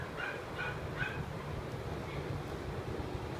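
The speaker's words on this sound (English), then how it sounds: "He's a really happy dog." A small, happy dog gives three quick high yips close by, then a fainter whine, against a low rumbling background.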